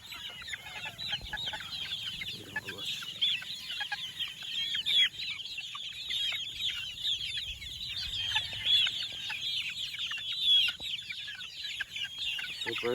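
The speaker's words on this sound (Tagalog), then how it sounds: "Ito na yung mga nasisiw natin." Healthy young chicks peep in a steady, busy chorus with occasional clucks from nearby chickens, high chirps continuing throughout at moderate, close range without talk.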